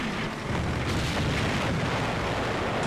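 Dense, continuous rumbling booms of 105mm artillery fire roll in the World War II game Combat Mission: Beyond Overlord, with loud overlapping blasts and no pause.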